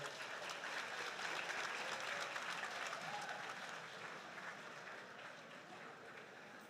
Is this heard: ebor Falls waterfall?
no